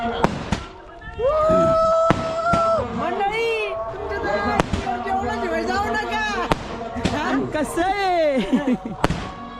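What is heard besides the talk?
firecrackers bursting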